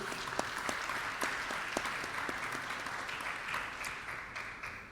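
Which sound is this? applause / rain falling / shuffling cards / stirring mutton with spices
applause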